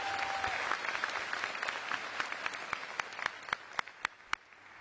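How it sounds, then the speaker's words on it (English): Audience at a graduation ceremony applauding, a dense crowd of clapping that thins out toward the end into a few loud, separate claps. "Can I get a round of applause for all the friends and families in the audience?"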